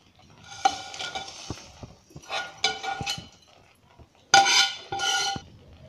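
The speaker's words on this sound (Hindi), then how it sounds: "अब भुनी हुई दाल डालेंगे और मिक्स करते जाएंगे।" Roasted moong dal being stirred into a laddu mixture in a metal vessel gives separate scraping strokes and clinks of a spoon against the pot, coming in short bursts with quiet gaps between them.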